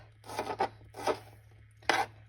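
A knife cuts tomatoes for a seagrape salad in a few close, rasping slices, two quick ones followed by single strokes, each short and distinct over a faint steady hum, with no talking.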